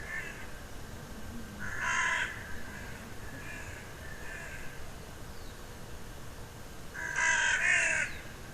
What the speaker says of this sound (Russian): Вот птичка поет. Воронка весенняя.